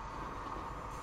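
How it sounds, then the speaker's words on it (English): Diesel trains racing down a mountain line in the video game Transport Fever, a steady low rumble with faint rail clatter, continuous and moderately distant, with no voices. "Russian train pulling ahead again."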